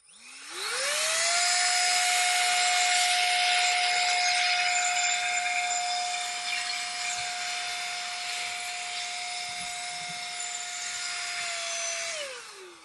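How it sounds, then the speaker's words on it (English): A rechargeable variable-speed compressed air duster spins up and blows a steady high-pitched hissing whine while clearing debris from car seat seams, holding one pitch for about eleven seconds before winding down, close and alone. "then I'll blow the stuff out with the compressed air duster"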